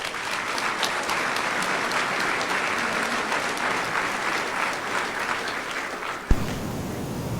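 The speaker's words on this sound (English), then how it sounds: "please join me in a warm round of applause for Major General Don Hill" Sustained audience applause at a military Sergeant Major Academy graduation ceremony, a dense steady wash of clapping hands that fills the room for several seconds before ending with a sharp knock.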